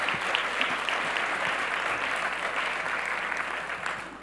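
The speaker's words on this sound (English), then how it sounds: "Let's give another round of applause to Maureen Fan," An audience at an innovators' awards event applauds Maureen Fan, president and CEO. Sustained clapping from a sizable crowd stays dense and even throughout and tapers slightly at the end.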